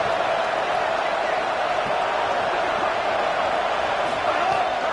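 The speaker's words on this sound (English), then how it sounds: "Deafening noise." A stadium crowd roars continuously in an NCAA college football video game between Texas A&M and Texas Tech, a dense, loud, sustained wall of noise with a play-by-play voice over it.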